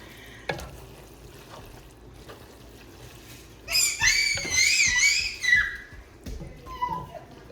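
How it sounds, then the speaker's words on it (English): Meat sizzles steadily in a hot pan, with a louder hissing crackle swelling for a couple of seconds midway, plus occasional clinks of a utensil. "This has a nice sizzle to it, as you can see, sizzling on the side."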